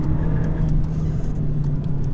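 A 2018 VW Golf in its sportiest mode driving on a B road, a steady close engine drone with road noise inside the cabin, no talking.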